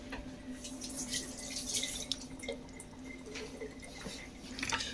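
Water runs from a kitchen tap: close, irregular splashing and dripping over a low steady hum, alone with no talk.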